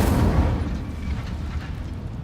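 A booming, fiery whoosh for an Incendio fire spell, loud at the start and rumbling on as a dense roar before slowly easing off.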